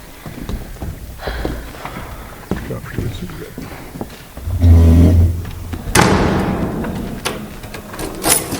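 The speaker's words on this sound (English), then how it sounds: "Did he just lock that door?" A door is shut and locked on stage during a school drama performance of Twelve Angry Men: a heavy low thud, then a sharp rattling click, against hall room noise and soft shuffling.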